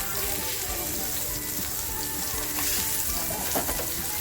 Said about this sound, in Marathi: आता आपल्याला आहे ना ही मच्छी अशी छान फ्राय करून घ्यायची